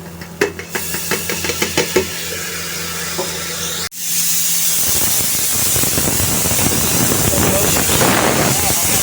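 Dal poured into a hot pan of fried masala, tomatoes and salt bursts into a loud, steady sizzle and hiss that carries on to the end, after some brief clinks and faint talk.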